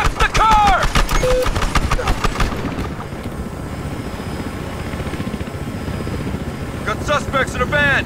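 A helicopter's rotor chops loudly and steadily throughout in the video game Battlefield Hardline, with shouted voices and quick chirpy calls breaking in at the start and end.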